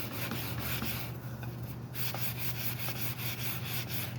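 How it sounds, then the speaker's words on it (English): Sandpaper rubbing on a soft aluminum motorcycle handlebar, a continuous close scratchy back-and-forth scrubbing with a steady rhythm and no speech. "it doesn't take much pressure to clean them off with the sandpaper"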